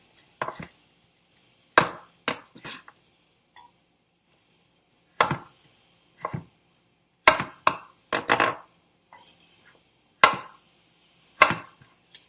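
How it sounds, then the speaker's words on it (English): A sharp knife chops vegetables on a cutting board in short bursts of two to four quick strikes, separated by pauses, close and clear with no talking. "I'm just chopping these up real quick."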